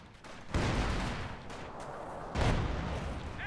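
Gunfire in Company of Heroes 2, a World War II strategy game: two dense, loud bursts of rifle and machine-gun fire about two seconds apart, each followed by sustained noisy crackle with no talk.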